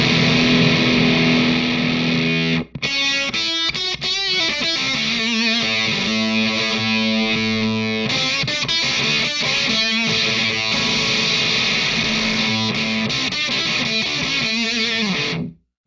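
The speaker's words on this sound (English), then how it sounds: "you hear sort of an upper octave effect" Electric guitar played through a ZVex Machine fuzz pedal with a bright, octave-up shimmer, sustained chords and riffs with brief gaps, loud and close.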